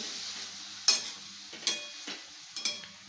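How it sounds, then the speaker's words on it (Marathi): A spoon stirs dill greens with salt in a pan, giving several distinct scraping strokes over a quiet low hiss, close and fairly soft, with no talking. "भाजी टाकून घेतली मी, त्याच्यात मीठ टाकते चवीनुसार आणि हलवून घेते"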